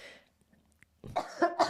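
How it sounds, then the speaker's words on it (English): A single person coughs in a hospital waiting room after a long quiet pause, a short burst of several harsh, close coughs rising clearly above the near-silent room. "I'm about to cough."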